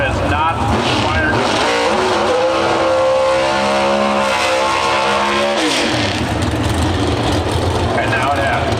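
A Pro Stock drag racing car at the NHRA Route 66 Nationals in Chicago fires up loudly, its engine catching and holding a rising, steady roar before settling back amid track noise and a commentator's voice.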